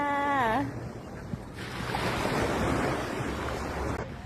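Waves washing onto a crowded Thai beach, a broad steady surf wash with some wind buffeting, preceded by a brief voice.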